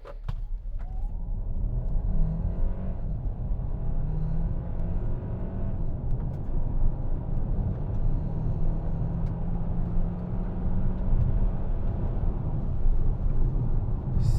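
A 2025 Hyundai Santa Fe accelerating hard from standstill to 100 km/h in sport mode, heard from inside the cabin as a steady, loud engine and road rumble that holds without pause and without talk.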